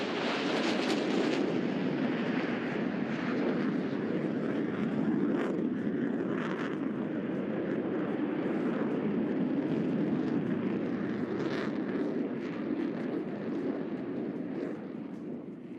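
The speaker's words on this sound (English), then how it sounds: "The Blue Angel barrel roll break." Blue Angels jets performing a barrel roll break at the NAS Oceana air show, a loud, continuous roar of jet engines with wind buffeting that holds steady, then eases slightly near the end.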